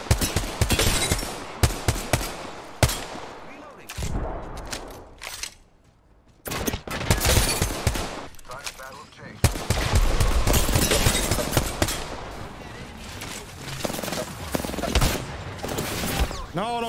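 Rapid automatic gunfire from an Apex Legends match, dense bursts of shots crackling loudly with brief lulls, plus a quieter gap midway before the firing resumes; a player's voice talks over parts of it.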